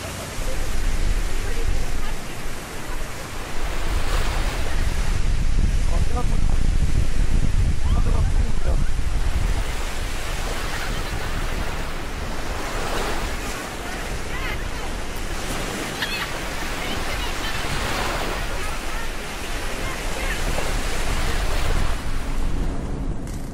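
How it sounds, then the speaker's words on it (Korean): Rough open sea off Norway's Lofoten Islands, heard from a boat: heavy wave wash and wind buffeting the microphone, a continuous loud roar that swells and eases over time. "먼 바다로 나가자 파도가 제법 거칠어지기 시작했는데요"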